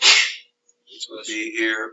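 A single sharp sneeze bursts out at the start, loud and close, followed after a brief silence by a person talking.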